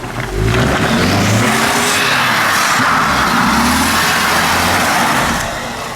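Ford Mustang doing donuts in the snow, its engine roaring loud and close with sustained revving and wavering pitch as it circles, accompanied by hissing tire spin throughout.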